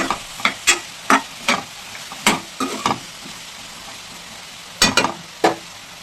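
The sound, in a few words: raw banana slices frying crisply in a pan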